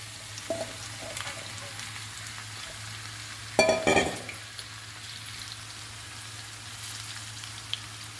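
Chopped ivy gourd pieces hit hot oil in a pan with curry leaves, giving a soft steady sizzle and a louder burst of frying and rattling partway through.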